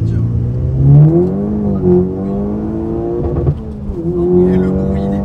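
A Volkswagen Golf 6 GTI with a stage 2 tune accelerates hard, its engine note rising and falling through gear changes, loud and heard from inside the car with occasional talk over it.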